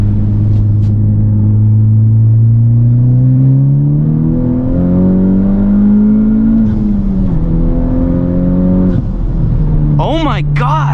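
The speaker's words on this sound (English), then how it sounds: "I'll give you guys one third gear pull so you can hear what the downpipe sounds like." A car with an aftermarket exhaust downpipe pulls hard in third gear, its loud, close engine note climbing steadily and dropping at the shifts, with a sharp burst near the end.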